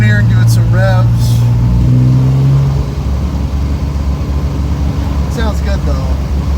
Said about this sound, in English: If I can turn here and give it some revs.